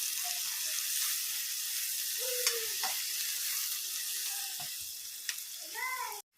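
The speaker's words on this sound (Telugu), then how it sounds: "ఉల్లిగడ్డలు మంచిగా ఎర్రగా వేయించుకోవాలి" Onions fry in hot oil with curry leaves and turmeric, a continuous close sizzle with faint stirring scrapes.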